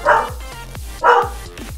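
A pet dog barks indoors twice in close succession, loud and near, each sharp bark followed by low thuds, with no talk over the sound.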